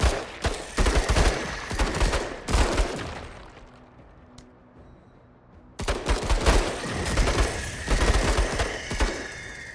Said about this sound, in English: Let's now take some shots since she is spotted.